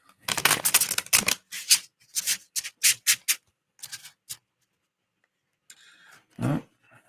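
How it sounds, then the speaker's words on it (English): Decks of tarot cards are shuffled by hand, a series of close, crisp riffling bursts with short pauses between them, then a soft rustle and one final shuffle. "that's about as much stalling as I can do shuffling the decks"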